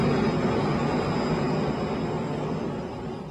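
A jet airplane engine roars in a steady, dense broadband rush that fades slightly toward the end, with no voices.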